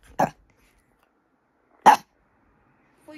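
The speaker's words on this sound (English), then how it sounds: "Why are you barking?" A dog gives two short, sharp barks spaced well apart, close by in a quiet indoor room, followed by a brief trailing sound at the end.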